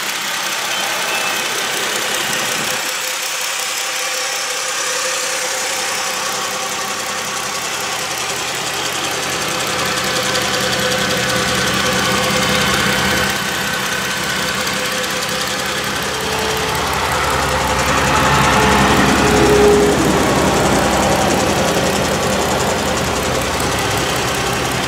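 A 2004 Chrysler Sebring convertible's 2.7 liter V6 idles steadily up close with a low even hum and faint ticking, swelling slightly as the listening position moves around the engine bay.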